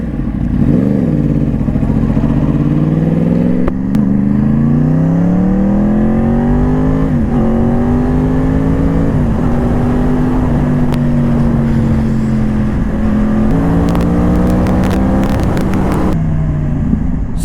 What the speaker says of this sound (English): It's a cross-plane engine with an irregular firing order.